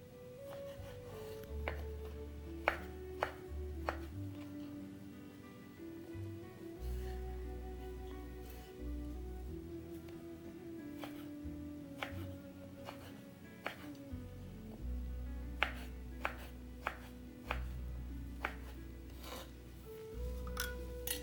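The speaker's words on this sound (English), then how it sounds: "I will need 12 ounces, about 2 cups of dried apricots. I'll chop them finely." A knife finely chops dried apricots on a board, quiet irregular taps and short cutting strokes scattered over a long stretch beneath a soft, steady background tone.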